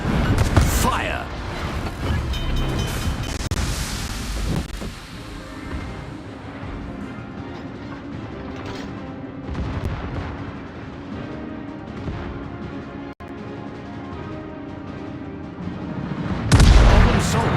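The battleship Duke of York fires its main guns in the naval combat game World of Warships: deep booming salvos at the start and end over a continuous rumbling battle ambience, with voices mixed in.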